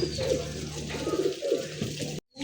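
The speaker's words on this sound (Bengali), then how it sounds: "এই মুহূর্তে দেখতে পাচ্ছেন আরও এক জোড়া কিং কবুতর" King pigeons cooing close by, a pair giving repeated throaty rolling coos that overlap steadily for about two seconds before cutting off abruptly.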